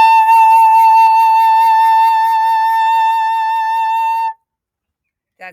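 A single high A on the flute rings out clear and steady for about four seconds, then stops abruptly into silence, played solo and close.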